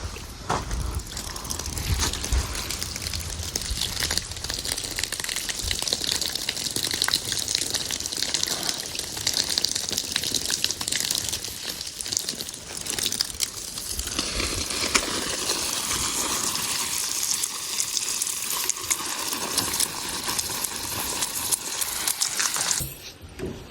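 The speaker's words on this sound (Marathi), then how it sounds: "आता आपण रोपांवर पाणी मारून घेणार आहे पहिल्यांदा" Water sprays steadily onto groundnut seedlings in a farm field, a continuous hissing gush lasting throughout with small clicks and shifts in strength, no voices.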